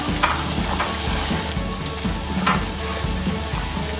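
Sugar syrup for gulab jamun bubbling on a stove, a steady close simmer with soft popping and crackling bubbles under a constant low rumble.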